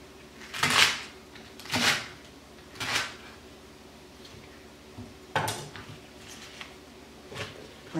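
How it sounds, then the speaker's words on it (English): Knife chopping vegetables on a cutting board for homemade chicken broth, with about six separate loud thuds spaced irregularly, close by, and no talk. "So now I'll give them a rough chop."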